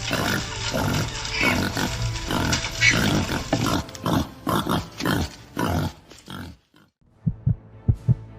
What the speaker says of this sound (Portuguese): O armador de armadilhas pode esperar até que o maior número de javalis selvagens entre na armadilha para ativá-la.